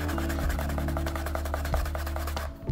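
A leather edge is burnished after being coated and sanded, giving a steady, quick back-and-forth rubbing with a soft raspy texture, close and fairly quiet, heard alone.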